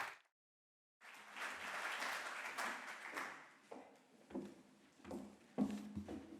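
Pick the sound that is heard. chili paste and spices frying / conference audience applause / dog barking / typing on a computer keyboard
conference audience applause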